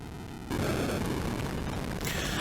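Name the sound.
explosion in a video game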